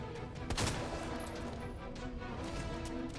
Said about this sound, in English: We're just gonna shoot him in the head.